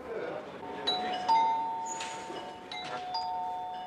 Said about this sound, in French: Ce carillon au timbre inoffensif, c'est précisément un ordre de mise en alerte.